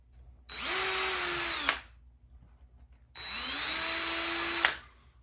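Two bursts of a power drill boring holes into a wooden berry rake, each lasting over a second with a rising whine, close and loud, separated by a short quiet pause.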